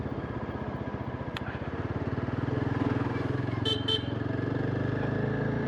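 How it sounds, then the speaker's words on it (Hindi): Yezdi Adventure motorcycle engine idling with a steady rapid thump, and two short horn beeps in quick succession near the end over the engine. "हॉर्न की जो पिच है वो ज़रूर मुझे लगता है कि थोड़ी सी लाउड होनी चाहिए थी।"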